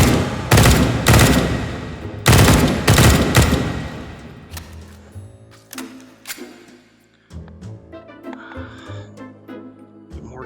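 Video game gunfire in H3VR aimed at hot dog enemies: two loud rapid bursts of automatic fire open the scene, followed by sparser single shots, clicks and mechanical handling sounds that fade toward quieter moments.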